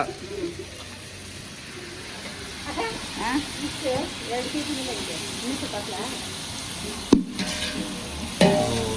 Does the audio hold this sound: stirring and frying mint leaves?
yes